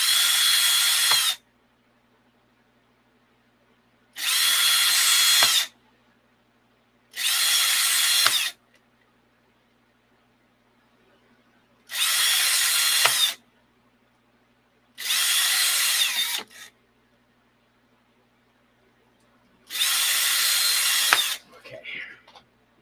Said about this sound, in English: And this is what I'm drilling into. This is just a piece of that floor mat foam.